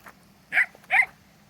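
Two short, high-pitched barks or yips from young puppies, close and fairly quiet, evenly spaced over a faint low hum with no talking.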